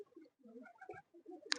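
Madrasi pigeons cooing close by in a series of soft, low, rounded calls, with a brief sharper rustle at the very end.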